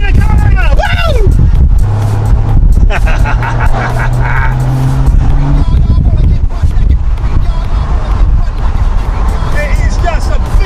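A 1990s Porsche 993 sports car engine runs loud and close while driving, rising and falling with gear changes amid road noise, with voices talking over it throughout.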